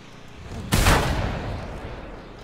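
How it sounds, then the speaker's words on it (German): A single loud gunshot in the video game Mad Max: one sharp, near blast that ends in a rumbling decay lasting about a second and a half, heard alone. "Ja, jetzt habe ich einen Schuss verbraten"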